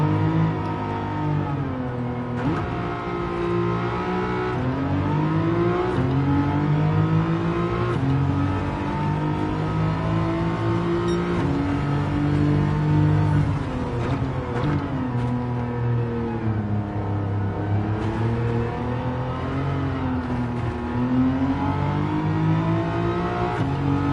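A 1973 BMW CSL with a swapped engine drives in the racing game Gran Turismo 7, its engine droning steadily with harmonic pitch rising and falling through repeated revs and shifts, loud and continuous with no talk.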